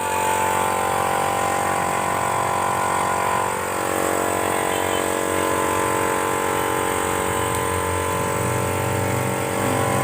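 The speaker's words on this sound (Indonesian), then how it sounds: "akan menembakkan angin kencang dengan mesin kompresor angin." An air compressor motor runs steadily, a loud continuous droning hum with a buzzy mechanical tone that holds constant for the whole stretch, with only a slight dip partway through.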